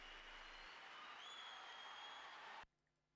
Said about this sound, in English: A little bit of crowd noise there.